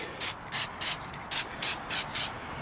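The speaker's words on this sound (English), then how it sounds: "So what I'm doing, instead of spraying big coats, is I'm dotting it." An Aztek airbrush sprays paint onto a dummy in light dots, making seven short, sharp hissing bursts in an even rhythm with brief silences between them, close and clear.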